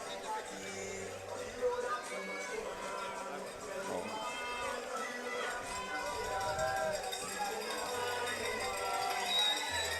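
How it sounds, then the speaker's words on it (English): Crowd noise at a swimming meet in an aquatic center at the 32nd OECS Swimming Championship in St. Vincent and the Grenadines, a steady roar of cheering and chatter under continuous talk, with cowbells and horns in the mix. "And you can hear the crowd starting to pick up now as well."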